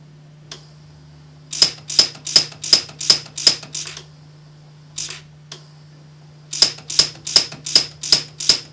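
An Orion pulse welder fires rapid welds, with sharp, loud clicking bursts in two quick runs of about eight, spaced evenly over a steady low hum.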